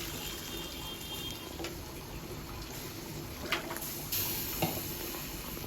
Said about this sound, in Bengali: আলুটা কষানো হয়ে গেছে দিয়ে দিচ্ছি পানি